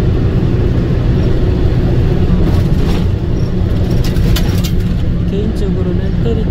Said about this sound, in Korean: 해저 터널로 페리 타지 않고 버스 타고 바로 치징섬으로 들어가고 있습니다